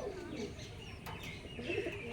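Kalanka pigeons at a breeder's home coo in a short burst, a low murmuring call joined by a faint chirp or two nearby.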